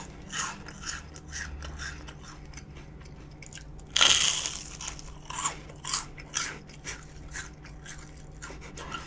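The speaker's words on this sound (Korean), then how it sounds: "벌써 바삭바삭거리는 소리 보소, 이거." Crisp deep-fried battered food, including sesame-coated fritters, crunches in bites between quiet pauses, with one loud close crackling burst and several softer crunches following in an irregular rhythm.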